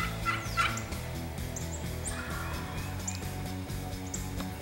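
A wild turkey in the Pennsylvania woods at dawn gobbles in a rattling burst near the start, heard at moderate distance over a steady background hum, with faint bird chirps scattered throughout.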